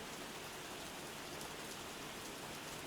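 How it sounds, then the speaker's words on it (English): Light rain patters steadily on a roof, a soft, even, continuous hiss of drops with no other sounds, heard quietly from indoors. "It's not too heavy or anything, so there's just little patters on the roof."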